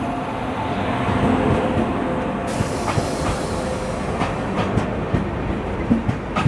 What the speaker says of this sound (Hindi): आ रही है आगे से 17020 हैदराबाद हिसार एक्सप्रेस